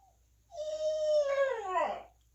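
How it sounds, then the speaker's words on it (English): A pet dog gives one long, close howl indoors, a sustained tone that rises slightly and then breaks into a wavering, falling whine before stopping. "Sorry, that's my dog."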